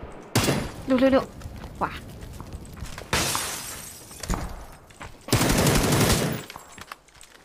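Pistol gunfire in a shooter video game, several sharp loud shots in short clusters alongside breaking-glass crashes, while excited voices talk and exclaim.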